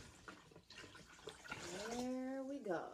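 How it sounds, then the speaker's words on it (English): Water is poured into a container for an Easter egg demonstration, a rising pouring tone that swells over the last second and a half, with a person speaking over the start. "In goes some water. Okay, and just a little bit more water."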